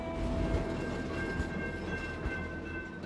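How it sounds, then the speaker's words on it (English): A passenger train runs on rails through the Canadian Rockies between Kamloops and Banff, giving a steady rumbling roar with faint clickety-clack and a thin metallic whine, heard continuously up close. "welcome back on board the train"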